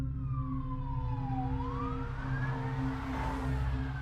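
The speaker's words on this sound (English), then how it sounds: "fire trucks roared down the street with their sirens wailing" A siren wails in slow rising and falling sweeps over steady traffic rumble, some distance away and moderately loud.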